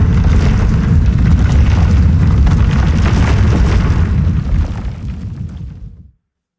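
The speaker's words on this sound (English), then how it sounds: "That's the basic patch for an earthquake generator." A synthesized earthquake rumble from a Phase Plant patch with room reverb: a dense, loud low-end roar that holds steady for about four seconds, then thins and fades out around six seconds.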